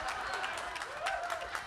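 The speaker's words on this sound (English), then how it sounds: "they deserve a clap" Audience at a live band concert breaks into applause, a dense patter of many hands clapping with crowd murmur and a voice mixed in.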